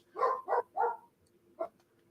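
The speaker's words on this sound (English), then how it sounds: "Here's my dog." A small dog barks three times in quick succession, then gives one more bark after a pause, close and fairly loud, with no speech over it.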